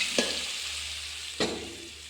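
Ground masala paste frying in a pan for drumstick curry, a steady bright sizzle with two sharp splashes and stirring scrapes, close and alone with no talk.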